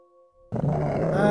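A dog in the adventure game Lost in Time lets out a loud, sustained growl that bursts in after a brief quiet tonal hum and holds steady to the end.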